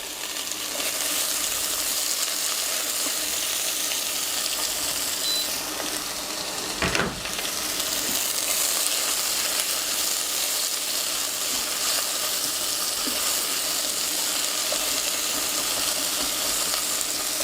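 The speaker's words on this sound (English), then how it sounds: "you don't want to fry your onions so hard that they look like something you'd get at the shows on a hamburger" Onions frying briskly in a pan for a veggie shepherd's pie, a steady loud sizzle with a brief clatter partway through, continuing without talk.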